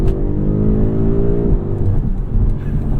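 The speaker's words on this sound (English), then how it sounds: "The pull and the sounds. I love BMW M Performance exhausts so much." A 2021 BMW M5 fitted with an M Performance exhaust accelerates hard, its loud engine note climbing steadily in pitch, then dropping at a gear change before pulling again.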